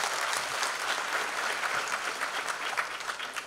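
An audience claps loudly and continuously, a thick wash of many hands sustained across the whole stretch with slight swells, no voices rising above it.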